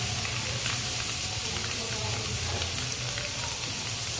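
Capsicum and other vegetables for restaurant-style veg noodles frying in a pan over high heat, a steady, close sizzle that holds evenly throughout with no talk.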